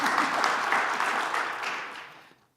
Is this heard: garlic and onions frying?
no